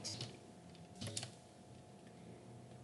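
Typing on a computer keyboard while entering Python list code, with soft clustered key clicks in a couple of brief bursts over a steady low room hum, fairly quiet and with no voice.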